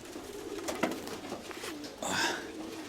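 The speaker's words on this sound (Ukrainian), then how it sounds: "молодець, стійкий такий голуб" Soft pigeon coos sound close by, a low burbling call with a brief louder burst near the end, against faint background noise.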